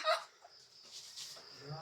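Chickens cluck briefly and faintly at a farmyard feeding spot, a short burst at the start followed by quieter bird and background noise.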